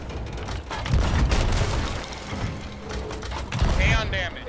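Skeleton ship cannons booming in Sea of Thieves during a megalodon fight, heavy rumbling blasts and clattering under excited players talking.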